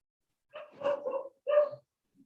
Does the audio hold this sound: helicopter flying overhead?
no